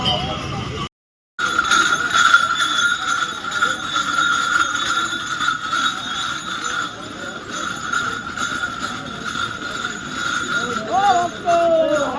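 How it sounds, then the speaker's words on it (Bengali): A local train on the Kamarkundu to Singur line passes at night, a sustained rumbling rattle with a steady metallic whine, heard under someone talking and crowd noise. "কামারকুণ্ডু থেকে সিঙ্গুরের দিকে ওই লোকাল ট্রেনটা কিন্তু যাচ্ছে"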